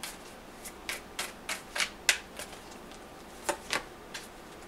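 Tarot cards being shuffled before a card is pulled, a series of crisp riffling bursts spaced irregularly, close and moderately quiet over a low background hum.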